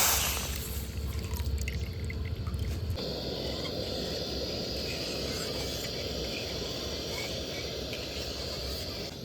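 Coconut liquid goes into a hot pan while homemade coconut oil is made, and a sharper burst gives way to a steady, loud, hissing bubble that carries on evenly to the end.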